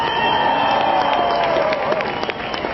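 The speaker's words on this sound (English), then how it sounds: "Give yourselves a round of applause." A large outdoor crowd at a London climate protest applauds and cheers in a steady, dense wash of clapping and voices, loud and continuous throughout.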